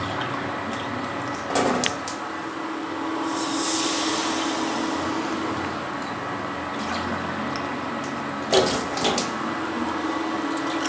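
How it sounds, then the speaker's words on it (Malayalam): Two cups of water poured into a heated pan while making Malabar pathiri dough, a steady, close pouring hiss with a couple of sharper splashes and clinks, no talking. "ഒരു 2 കപ്പ് വെള്ളം ഞാനിതിൽ ചേർത്തിട്ടുണ്ട് കേട്ടോ."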